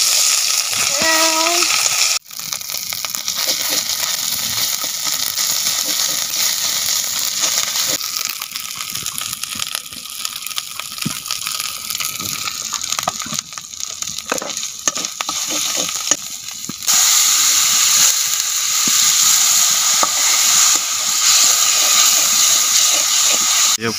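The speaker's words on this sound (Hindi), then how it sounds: "तेल गरम हैनी प्याज एबे पड़ी" Onion frying in hot oil with a steady, loud hiss and sizzle that carries on for the whole stretch, broken by a sudden drop near the start and stirring noises throughout.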